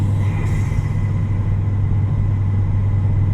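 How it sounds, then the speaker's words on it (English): A car with an aftermarket intake cruises in 5th gear, its engine and induction noise a steady, loud low drone with no speech over it. "all you want to hear is induction noise"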